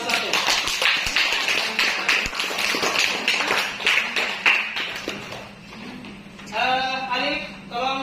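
Schoolchildren in a classroom clapping for a presenting group, a burst of uneven, fairly close claps that thins out toward the end, followed by a few high children's voices.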